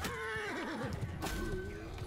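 A horse neighs in a Mount and Blade 2 Bannerlord battle, a loud warbling whinny rising and falling over the steady din of combat, with hoofbeats and clashing noise underneath.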